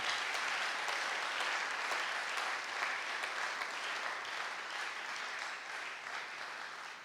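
A church congregation claps together in sustained, dense applause that stays loud and even for the whole stretch before easing slightly near the end, with no voices over it.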